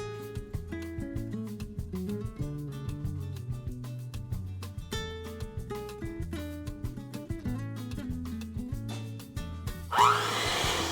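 An electric hand mixer beats butter for an eggless rum cake batter, a continuous whirring motor hum with shifting pitch as the beaters move through the bowl, close and steady for the whole stretch without talk.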